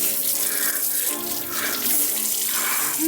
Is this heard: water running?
yes